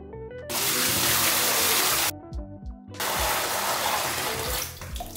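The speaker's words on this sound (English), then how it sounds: "And then dumped in vigorously into the bathtub." Loud gushing rush of beer wort poured vigorously into a bathtub, two sustained pours split by a brief pause with splashing, close and forceful.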